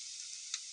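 Cumin and spices hit hot oil for a potato and capsicum sabzi, giving a brief, faint, steady sizzle with one small pop near the end.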